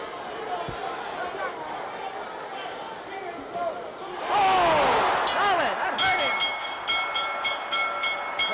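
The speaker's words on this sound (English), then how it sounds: "There's the bell" Boxing bell rings out at the end of a round during the Muhammad Ali vs Joe Frazier fight, several sharp metallic strikes cutting through a roaring arena crowd while a commentator talks.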